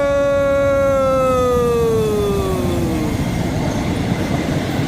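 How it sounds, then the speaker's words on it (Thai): Thai train 261 from Bangkok to Hua Hin, hauled by locomotive 4301, passes close by with a loud sustained horn whose pitch drops as it goes by, then fades into steady rumbling wheel noise. "ขบวน 261 นะครับ กรุงเทพหัวหิน4301ทำขบวนว้า"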